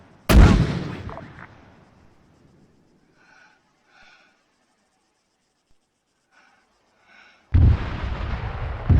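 Four mortar rounds launched from an Mk 6 mortar in Arma 3, a heavy booming launch followed by faint, distant thumps of the rounds landing before another loud blast close by.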